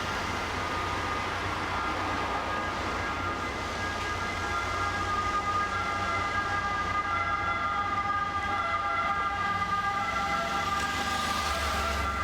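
Police siren in San Rocco Square in the centre of Corfu town, a steady wailing tone heard at a moderate distance over constant town traffic and street noise, with no voices.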